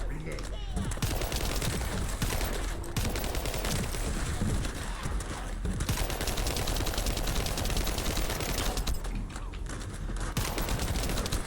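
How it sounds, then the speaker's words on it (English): Thunder Cage's ultimate ability in The First Descendant sets off dense, rapid crackling energy blasts layered over heavy gunfire, a loud continuous barrage with brief dips. "that big explosion of energy is the Thunder Cage's ultimate ability"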